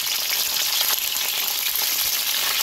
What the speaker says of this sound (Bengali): মশলা বাজবার লাগি এখন তেল দিলাম